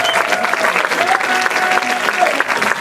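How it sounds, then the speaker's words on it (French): Louder seminar audience applause welcoming a guest speaker, a thick steady roar of many clapping hands, with a few faint cries and voices mixed in. "On peut l'applaudir plus fort."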